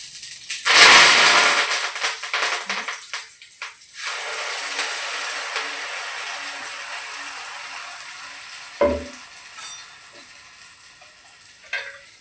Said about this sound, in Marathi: जिरं मोहरी घालते.